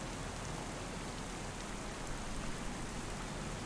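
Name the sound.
rain falling, from the video game Farming Simulator 25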